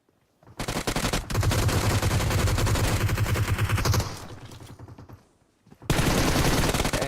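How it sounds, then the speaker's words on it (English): Sustained automatic gunfire rattles in PUBG Mobile, a dense, loud, rapid stream of shots lasting several seconds. It fades briefly, then a fresh heavy burst cuts back in. "Zeus shooting under the stairs"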